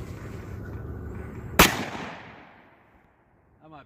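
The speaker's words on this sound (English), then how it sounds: "We got some Underwood 350 grain, I do believe, 350 grain jacketed hollow point." A single sharp, loud .500 Magnum gunshot firing an Underwood 350 grain jacketed hollow point load, a sudden blast with a long fading outdoor tail, followed by a moment of quiet.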